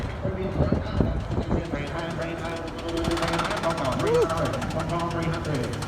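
A car engine rumbles and knocks steadily at close range at a public auto auction, with people talking over it.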